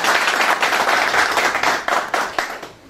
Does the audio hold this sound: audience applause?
yes